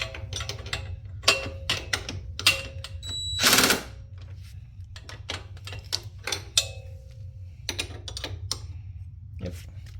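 A 17 mm wrench tightens a frame slider bolt on a 2003 Kawasaki ZZR 1200, giving sparse metallic clicks and ratcheting taps over a low hum, with one longer grinding scrape partway through.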